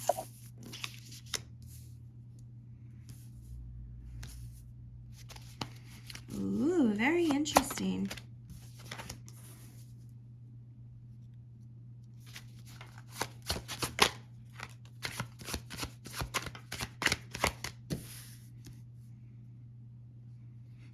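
A Dungeons and Dragons tarot deck gets shuffled in quick bursts of crisp riffling and flicking, the card noise coming and going in clusters while a voice speaks softly in between.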